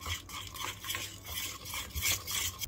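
Melted gingerbread mixture with an added egg is stirred in a bowl, a soft, continuous scraping and swishing heard close up with no voices.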